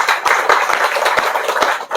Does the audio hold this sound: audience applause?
yes